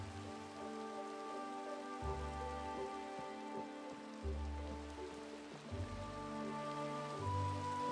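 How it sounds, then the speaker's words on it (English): Steady rain falls in the Minecraft video game as a constant, soft hiss that runs the whole time. A quiet, tonal background track plays under it. "Oh man, rain, what a pain, but it's okay."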